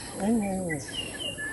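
A short, descending bird call, followed by a few faint high chirps over a quiet outdoor background.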